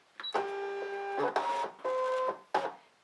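A Brother ScanNCut cutting machine loads fabric on a cutting sheet with a series of whirring motor runs, each a few tenths of a second to nearly a second long, separated by short pauses and clicks, close and clear.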